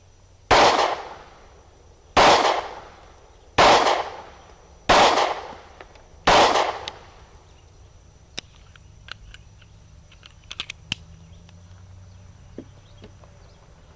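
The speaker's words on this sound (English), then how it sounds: "We're just going to shoot a group over here at 7 yards and see how it comes out." Five sharp, loud shots from an S&W M&P Shield 9mm pistol fitted with an Apex Tactical trigger, fired at a target 7 yards away, ring out at even intervals of about a second and a half, each with a short echoing tail, then quiet rustling follows.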